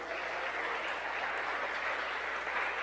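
Church congregation applauding during a celebration service, a steady wash of many hands clapping together, even and sustained, heard at a moderate distance and fairly quiet.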